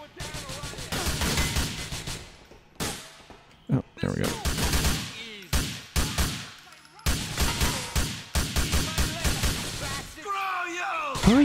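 Rapid bursts of video game gunfire ring out loud and close in repeated volleys, machine-gun rattles broken by short pauses, ending with a shriek-like tonal sound.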